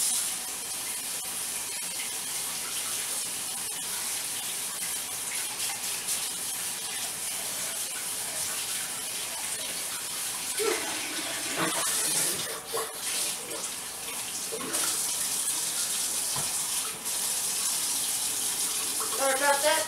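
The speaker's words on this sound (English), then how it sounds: "Wash my fingers real quick." Water runs steadily from a kitchen faucet as someone rinses raw hamburger meat off their fingers, a continuous splashing hiss with a few brief changes in flow; it plays alone without talk.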